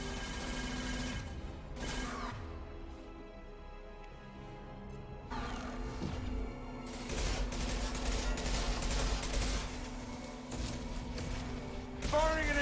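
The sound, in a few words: impact shot gunfire in Mass Effect 2 video game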